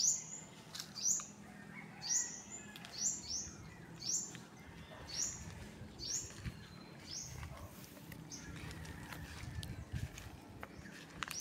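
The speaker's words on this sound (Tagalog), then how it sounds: "maririnig mo lang huni ng ibon" Birds chirping at a farm, a series of short bright tweets repeating about once a second, moderately close over quiet outdoor background with faint rustling and footsteps.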